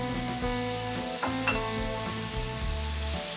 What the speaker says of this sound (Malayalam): അതുകൊണ്ടിട്ട് നല്ലവണ്ണം സോട്ട് ചെയ്യാം